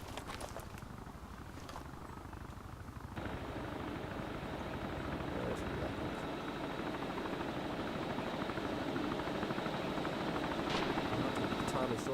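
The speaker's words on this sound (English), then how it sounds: "And the helicopters come back as well." Helicopters fly in the survival video game DayZ, their rotor beat a continuous, fairly loud thrum that swells partway through, with a voice talking over it.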